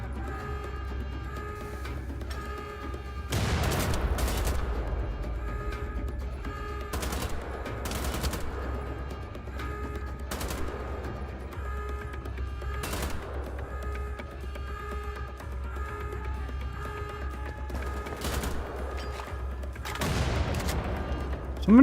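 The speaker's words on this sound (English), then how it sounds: "It sort of feels like somebody's shooting at me from behind." Repeated bursts of gunfire and heavy booms from the video game Wolfenstein: The Old Blood, with volleys of shots at irregular intervals over a steady low rumble, fairly loud and without speech.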